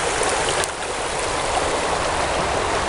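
A forest creek that cuts cleanly through the forest floor, water rushing in a steady broadband wash, close and continuous with no voices.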